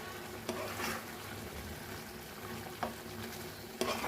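Prawns coated in a paste of cashew, poppy seed, coconut and green chili slow-fry in a pan over low heat, giving a gentle steady sizzle with a few sharp stirring scrapes.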